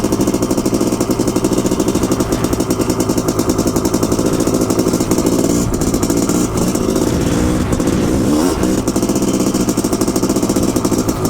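A Honda CR500AF two-stroke motorcycle engine runs loud and close with a rapid, buzzing rhythm that holds steady for several seconds, briefly rising and falling in revs, ridden out at a lake in slushy conditions.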